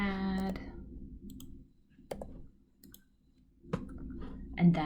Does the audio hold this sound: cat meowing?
no